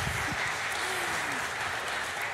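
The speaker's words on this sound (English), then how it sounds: "give them a round of applause." Applause from a church congregation during a worship service, a steady continuous wash of clapping that fills the space at moderate level for the whole stretch.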